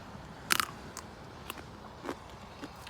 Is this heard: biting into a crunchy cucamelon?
yes